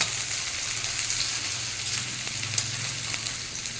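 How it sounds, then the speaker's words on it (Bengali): Chopped onions fry steadily in a generous amount of oil for birista, with cardamom in the pan, making a continuous close sizzle and crackle with small pops. "বেরেস্তা সবসময় একটু বেশি তেলেই ভাজতে হয়।"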